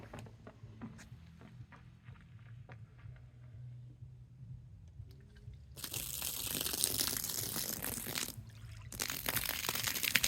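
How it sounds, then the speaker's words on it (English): A garden hose sprays water over windows, starting quiet with faint trickling, then bursting into a loud, steady hissing splash that briefly drops off before resuming. "Hold the hose up just a bit there so it kind of falls over top of itself"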